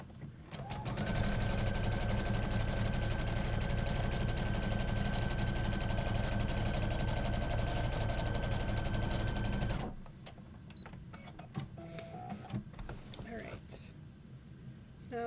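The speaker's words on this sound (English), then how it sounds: "we're just going to top stitch this seam allowance to the bottom part, the bottom panel of our bag" A sewing machine runs steadily for about nine seconds, top stitching the seam allowance onto the bottom panel of a tote bag, then stops, leaving quieter handling noise and fabric rustle.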